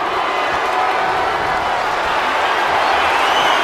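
Arena crowd in WWE 2K25 cheering during a casket match, a loud, steady roar of cheering and applause that fills the whole stretch without letting up.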